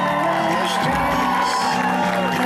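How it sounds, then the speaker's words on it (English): Wedding reception crowd cheering and whooping for a newly introduced bride and groom, a loud continuous wash of shouts and voices with music-like tones underneath. "Let's get a big round of applause for Eric and Christina."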